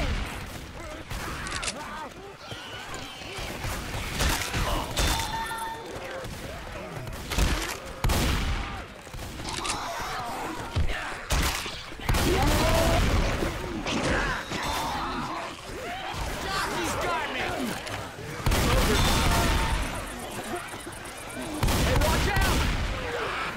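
Shotgun blasts and other gunfire ring out in the zombie game Left 4 Dead 2, loud repeated shots with crashes and growls scattered throughout, while players talk over the action.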